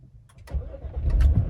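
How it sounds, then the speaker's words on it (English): A BMW X5 E70 engine cranks briefly and catches into a low rumble, heard close and short. "We're just gonna go ahead and start the car."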